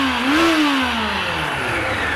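A Honda CB750 motorcycle engine with synchronized carburetors revs up under throttle, pitch rising sharply then falling back toward idle, close and loud, with no talking.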